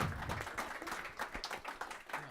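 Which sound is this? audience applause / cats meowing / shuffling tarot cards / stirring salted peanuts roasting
audience applause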